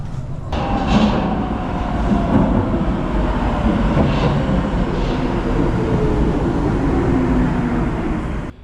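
A subway train rumbles loudly and continuously, with a low roar, faint rhythmic clatter and a rising whine as it travels.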